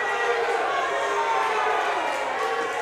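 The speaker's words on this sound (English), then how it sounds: "Crowd showing their appreciation of the beating that Valentine's giving Shock right now" A crowd in a fighting video game makes a steady, dense roar of cheering, continuous and fairly loud for a few seconds with no clear breaks.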